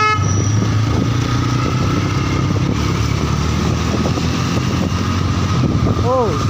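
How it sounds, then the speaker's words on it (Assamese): A motorbike ridden through town traffic hums with a steady loud engine drone, with a horn toot near the end, while a person talks over it. "চাহিল ইমান স্পীড গৈছে মোৰ বাইকত"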